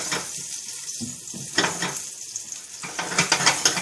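Steady sizzling of shrimp frying in a hot pan, with a few louder crackling bursts and light clatter of a utensil against the pan.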